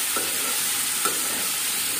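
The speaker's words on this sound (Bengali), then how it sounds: "খিচুড়ির জন্য একটু ভেজে নেব আলু আর গাজরটা" Potatoes and carrots frying in a pan for khichuri give a steady, even hiss throughout, broken by two light taps.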